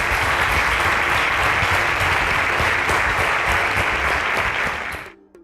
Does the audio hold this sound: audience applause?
yes